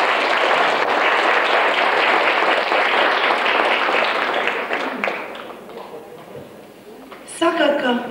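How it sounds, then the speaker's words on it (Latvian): Loud, sustained applause from an audience at a 2002 presentation of local parish businesses, honouring the authors of displayed works; dense clapping fills the first five seconds, then thins and fades, with a brief burst of sound near the end. "Es domāju, ka viņiem arī vissirsnīgākie aplausi tieši darba autoriem."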